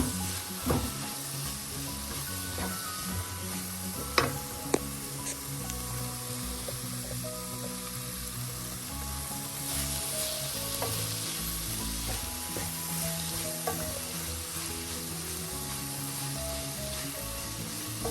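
Ingredients for Malabar-style chicken curry sizzle and fry in hot oil, a close, steady crackling hiss with occasional stirring clinks.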